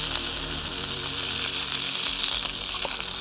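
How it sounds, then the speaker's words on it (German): Fish sizzling in a hot pan while its other side is seared, outdoors by the water, a steady loud crackling hiss that continues without pause. "Kann man nochmal hergehen, den Fisch einmal kurz umdrehen."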